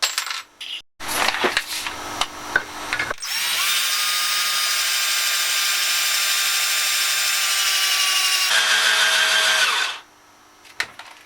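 A power drill with a 5mm bit whirs steadily for several seconds as it bores a hole for tapping, loud and close, preceded by clicking and rattling handling noises.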